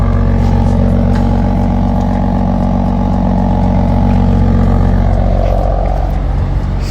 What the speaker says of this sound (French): Et les amis, deuxième arrivée, M3 F80.